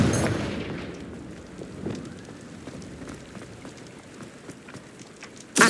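A Confringo blasting spell in the Hogwarts Legacy video game produces a rumbling, crackling explosion that tails off into scattered debris patter, ending with another sharp burst.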